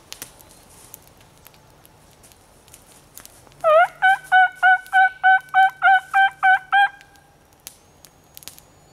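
A wild turkey hen yelps in a rapid run of about ten evenly spaced, loud calls, clear and fairly close against a quiet outdoor background.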